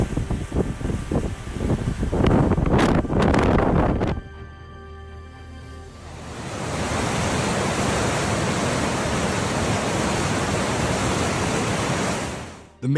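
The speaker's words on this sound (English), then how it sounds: "The waterfall defied gravity due to strong winds at Port Campbell National Park." Strong wind blasting across a waterfall at Port Campbell National Park, with heavy gusts at first, then a brief lull before a steady, loud roar of wind and spray.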